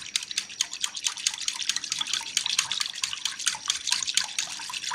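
Liquid for a homemade hand sanitizer made without rubbing alcohol is stirred and sloshed close by, a continuous run of splashy, dripping, bubbling sounds that begin to foam, with no talking.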